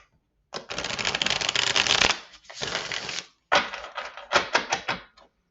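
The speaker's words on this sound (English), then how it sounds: "We'll get one more good shuffle here." A deck of cards being shuffled by hand, several riffle bursts of crisp fluttering snaps in close succession, the first long and loud, the later ones shorter with quick clacks.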